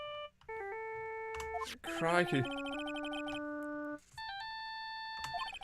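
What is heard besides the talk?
phone ringtone in Phoenix Wright: Ace Attorney video game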